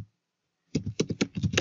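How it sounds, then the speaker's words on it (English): Quick bursts of close keystrokes on a computer keyboard, about eight taps in a brisk irregular run after a short silence, as an address is typed into a browser search bar. "open a browser and on the search bar type in"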